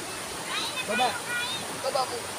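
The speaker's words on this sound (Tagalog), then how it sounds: "nakarating rin tayo sa ilog na ating pupuntahan" Steady broadband rush of river water flowing at a forest river, moderately loud and continuous, with faint bird-like chirps over it and speech in the background.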